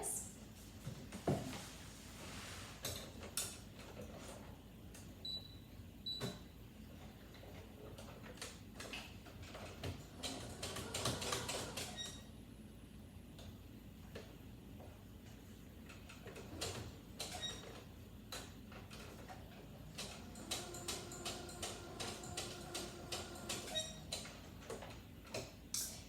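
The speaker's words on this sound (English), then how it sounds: "I'm going to use a straight seam to just sew straight down" A sewing machine stitching a straight seam on lingerie fabric, heard as quiet bursts of rapid mechanical ticking that start and stop, with brief pauses and faint handling noises between runs.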